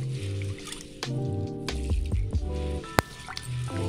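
Water sloshing and dripping as black-eyed peas are rinsed by hand in a bowl, with soft squishy splashes over quiet background music.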